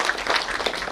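An audience at a conference on artificial intelligence gives a short burst of applause, a brief crackling wash of many hands clapping with no talk over it.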